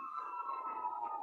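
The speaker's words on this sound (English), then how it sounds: "You'll have to pardon the sirens in the background." Emergency sirens wail in the background of a Bakersfield city street, heard from indoors as a faint, continuous tone that drifts slowly in pitch.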